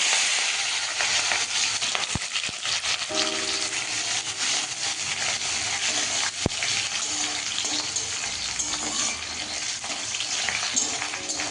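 Chopped onions hit hot oil with whole cumin in a pan for chicken dum biryani, a loud continuous sizzle and frying hiss with faint stirring clinks, no talking.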